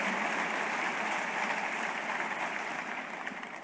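Steady, fairly faint audience applause for Dua Lipa at a leadership awards ceremony, a continuous wash of clapping that tapers slightly toward the end.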